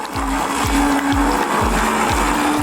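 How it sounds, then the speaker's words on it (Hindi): A blender whirs loudly and steadily as it blends peeled watermelon into juice, with rhythmic thumping pulses as the chunks churn in the jar. "अब तरबूज को ब्लेंडर से फेंट लेना है।"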